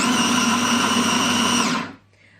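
A kitchen food processor chopping onion for minced-meat pide filling, a loud steady motor whine with a constant pitch that winds down and stops near the end, leaving near silence.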